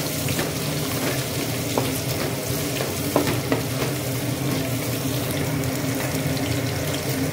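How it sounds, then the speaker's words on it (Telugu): Onions and green chillies frying in oil over a medium flame while making coconut rice, giving a steady, loud, close sizzle with occasional stirring scrapes and no talk. "ఆనియన్స్ అనేటివి మీడియం ఫ్లేమ్లో పెట్టుకొని ఫ్రై చేసుకోండి."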